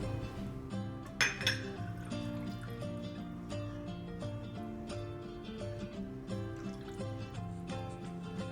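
A spoon stirs southern-style gravy in a pan over medium heat, giving repeated light metallic clinks and scrapes against the pan at an uneven, unhurried rhythm, close by with no talking.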